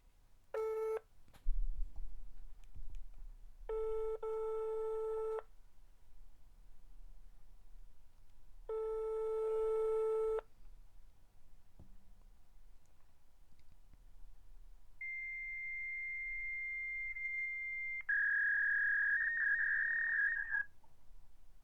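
A telephone call rings through to an answering machine: repeated ring tones in separate bursts, followed by longer steady electronic beeps, fairly clear and with no talking over them.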